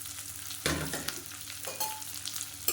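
Shallots and green chilies frying in a pan, a steady close sizzle with bursts of stirring and scraping, no talk.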